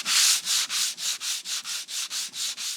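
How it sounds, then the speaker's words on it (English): Hand sanding on a stained wooden furniture piece during restoration, about a dozen even back-and-forth rasping strokes in a steady rhythm, close and clear with no talking. "I like sanding by hand."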